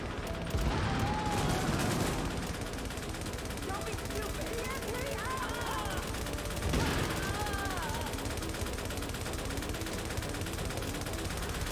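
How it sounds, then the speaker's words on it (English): Turret gunfire in Tom Clancy's The Division, a steady dense stream of shots running under a busy game soundscape with a voice talking over it. "Oh my God, that turret is killing me."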